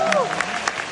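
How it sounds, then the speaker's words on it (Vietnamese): An audience at a Vietnamese mini show concert breaks into a short burst of clapping after a singer asks for applause, dense and lively throughout, with a voice sounding over it. "cho em xin một tràng vỗ tay."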